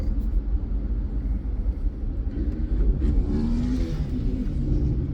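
Steady low engine rumble of a car driving along, continuous and close, with a slight rise in engine tone partway through and no voices.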